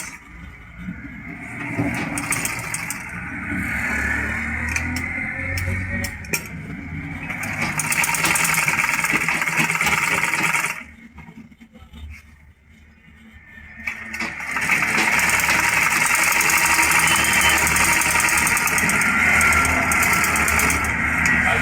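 A sewing machine motor hums loud and steady while stitching a trouser back pocket, dropping off briefly in the middle before running on again without pause.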